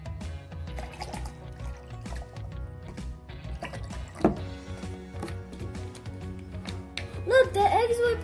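Water trickles and drips into a container for a vinegar egg experiment, soft and intermittent, with a splashier pour toward the end over light background music.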